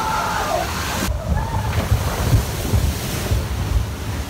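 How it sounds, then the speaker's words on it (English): Water rushing and splashing on the Splash Mountain log ride at Disney, a loud churning wash mixed with wind buffeting the microphone, with a sharp shift partway through. "so we're going on Splash Mountain"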